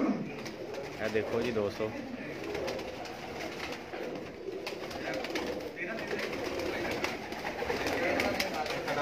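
Lakha pigeons coo in a steady, continuous chorus close by, layered with soft bird calls, while someone talks over them almost throughout.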